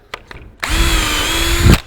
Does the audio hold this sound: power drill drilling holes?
yes